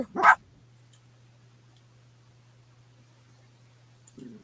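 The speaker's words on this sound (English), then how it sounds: "That BB barking" A single short dog bark right at the start, then a faint steady hum, with another soft yip or whimper near the end.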